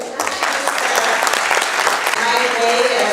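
An opening-night theatre audience gives a round of applause for actors on stage: loud, steady, full-room clapping that holds throughout.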